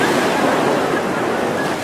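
Surf from the Bay of Bengal rushes steadily onto the beach beside a holiday home, a loud, unbroken roar of waves and wind that fills the whole stretch.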